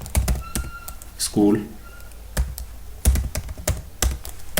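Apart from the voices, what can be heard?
typing on a computer keyboard in Microsoft Word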